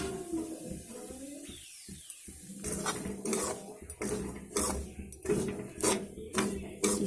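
Semolina stirred and roasted in hot refined oil in a kadhai, with a spoon scraping and clinking against the metal pan in repeated close strokes.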